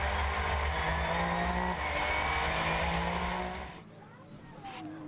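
A Porsche GT rally car drives a stage of the 2014 British Rally Championship TAC Rally, its engine droning loudly and steadily for several seconds before abruptly falling away to near quiet.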